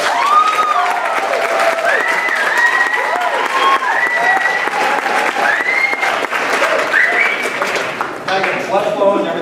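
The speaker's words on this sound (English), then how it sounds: "Wild applause." Audience applause at an alumni lecture, a dense, steady wash of clapping lasting several seconds with voices and whistle-like tones mixed through it.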